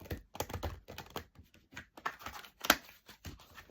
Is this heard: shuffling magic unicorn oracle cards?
yes